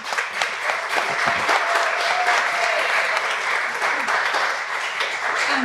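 Loud, sustained applause from the audience at a 2024 foundation legacy fund award ceremony, dense clapping filling the room without a break for several seconds.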